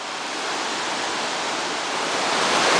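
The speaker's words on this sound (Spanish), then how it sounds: "Increíble estas cascadas." Gitgit Waterfall in Bali pours in a broad, steady roar of rushing water, close and continuous, slowly growing louder.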